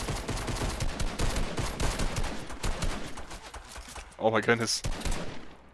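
Rapid bursts of gunfire in the video game Fortnite crackle continuously, then a person briefly exclaims over the shooting before it carries on.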